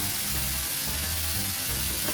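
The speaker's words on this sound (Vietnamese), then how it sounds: "Mình đảo đều cho phần thịt nạc xay này tơi ra và cho thịt săn lại." Ground lean pork stir-frying in a hot pan with garlic and shallot, a loud continuous sizzle with faint stirring scrapes, close up and with no voices.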